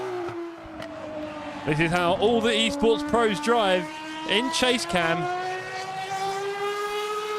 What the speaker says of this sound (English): V12 engine singing away.